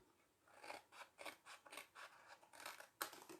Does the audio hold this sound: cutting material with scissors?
yes